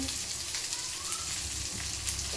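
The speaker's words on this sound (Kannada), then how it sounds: "ಈಗ ಬೆಳ್ಳುಳ್ಳಿ ಸ್ವಲ್ಪ ಸುಟ್ಕೊತಿದ್ದೀನಿ ನಾನು" Garlic frying in oil in a pan on a gas stove, a dense, loud, continuous sizzle close up with no one talking.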